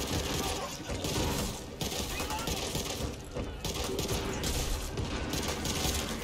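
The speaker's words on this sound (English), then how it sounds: "This sounds like he's shooting." Sustained heavy gunfire in the zombie shooter video game Back 4 Blood, a loud continuous fusillade of rapid shots and mechanical clatter with little pause, voices faintly mixed in.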